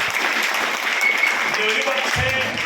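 An audience in Thrissur breaks into sustained clapping, a dense, even wash of applause that holds steady close by for the whole moment.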